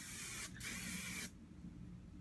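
Stay Firm hairspray misted onto hair in two close, faint hissing bursts, a short puff followed by a longer spray, then quiet.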